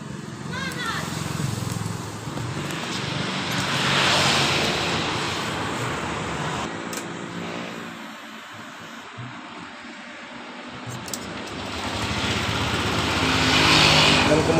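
A Honda Vario 125 scooter with a sluggish-throttle fault is started and left running, its close engine idling and rising in two louder swells, with someone speaking over the sound.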